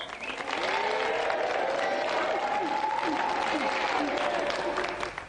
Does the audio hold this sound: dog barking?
no